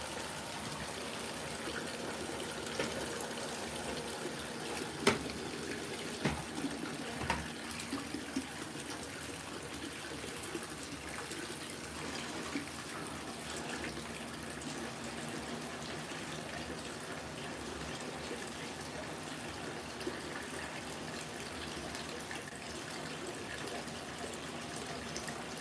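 Water draining out of an LG WT5480CW top-load washing machine, a long steady gushing rush with a few faint knocks and clicks partway through.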